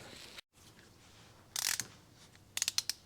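Torque wrench ratcheting while tightening hardware on a Suzuki GT380 motorcycle, a short burst of clicks followed by a few sharp separate clicks, close and quiet.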